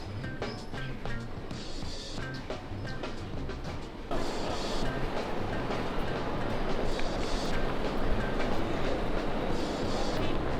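Train at a European station, heard as a continuous rolling rumble and clatter with faint scattered noise, growing louder and denser about halfway through, with no clear speech.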